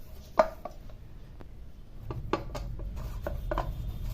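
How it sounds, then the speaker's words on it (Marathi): Bajra (pearl millet) flour dough kneaded by hand, soft close-up slaps, presses and rubs in an irregular rhythm, quiet and without any talk. "अशा पद्धतीने चांगलं मळून घ्यायचंय पीठ"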